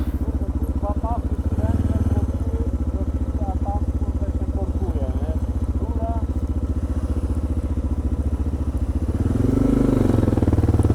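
A Suzuki motorcycle idling loudly close by with a rapid, throbbing exhaust pulse and popping and banging, revving up briefly near the start and again toward the end. No talking.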